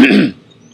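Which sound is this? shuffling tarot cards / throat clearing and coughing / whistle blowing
throat clearing and coughing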